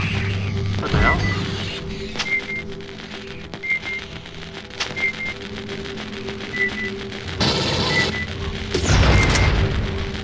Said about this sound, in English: This is a rocket launcher, right?